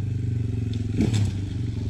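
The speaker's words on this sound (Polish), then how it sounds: "Motor jedzie." A Beta 200 Racing 2023 motorcycle engine idles with a steady low rumble, close by, with a brief clatter and scrape midway.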